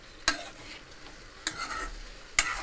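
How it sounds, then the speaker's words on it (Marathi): Okra being stir-fried in oil for a homemade masala bhindi: a low, steady sizzle with three sharp scraping stir strokes spaced about a second apart, close by and fairly quiet, with no talking. "ही भेंडी तेलामध्ये आपण परतू"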